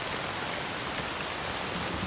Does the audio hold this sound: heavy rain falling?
yes